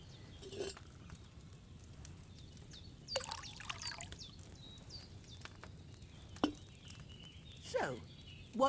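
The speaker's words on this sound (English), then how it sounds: "So, what did you pour in there? Wine, of course." Wine poured from a pitcher into a cauldron in Kingdom Come: Deliverance II, heard as a few short splashing pours over a quiet outdoor backdrop with chirping birds.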